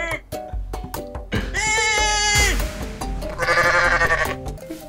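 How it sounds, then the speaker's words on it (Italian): Cartoonish goat bleats from the Goat Simulator video game, several wavering, drawn-out calls in a row, loud and close over busy game sound and music. "ecco Un'altra capra. una capra amica."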